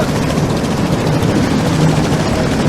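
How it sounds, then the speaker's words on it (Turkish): Helicopter rotors beat loudly and steadily throughout, a close, continuous throbbing drone inside a VR video game, with no talking over it. "Helikopter."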